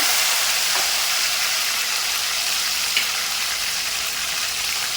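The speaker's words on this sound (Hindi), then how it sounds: "टमाटर कट करी हूँ ये सारे डाल देंगे इसके अंदर।" Chopped tomatoes sizzle in hot oil with tempered mustard seeds and chillies while cooking masala baingan, a loud, steady hiss that stays constant, with one or two faint pops.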